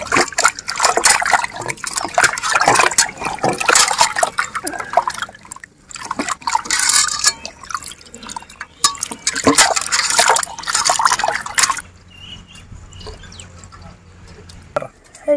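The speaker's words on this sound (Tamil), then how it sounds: "அந்த மஞ்சத்தூளை போட்டு எல்லாம் போட்டு நல்லா கழுவி எடுத்துக்கலாம்" Water trickles and pours over raw chicken leg pieces being washed with turmeric powder for a village-style barbecue chicken, a steady splashing stream that runs for most of the stretch before fading to quiet dribbles near the end.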